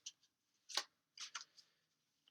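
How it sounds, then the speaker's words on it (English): Tarot cards are shuffled by hand in a few quiet, quick riffling bursts separated by short pauses, close and soft, with no talking. "So I'm going to shuffle those cards"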